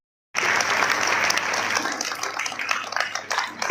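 A crowd bursts into applause for a child gold medallist in skipping, starting abruptly after a brief silence and continuing as a dense, even clatter of many hands.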